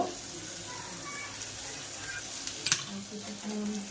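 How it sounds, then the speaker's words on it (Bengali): Spice masala sizzles steadily in hot oil for chicken curry, a soft continuous frying hiss with a brief clatter of stirring near the end. "যতক্ষণ তেল ছাড়বে না ততক্ষণ মশলাটাকে ভালো করে কষাবো।"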